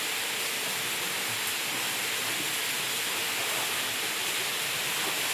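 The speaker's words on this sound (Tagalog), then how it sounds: "May falls pa na maganda." A steady, dense roar of falling water from a cool mountain waterfall, constant and broadband throughout with no voices or other sounds over it.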